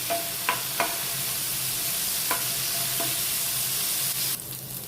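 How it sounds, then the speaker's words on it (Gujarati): Garlic fries in a pan on a full gas flame: an even, close hiss of sizzling oil with a few faint utensil clicks, then the sizzle drops a little near the end. "લસણને બે મિનિટ આ રીતે થવા દઈશું ફૂલ ગેસ પર આપણે થવા દઈશું"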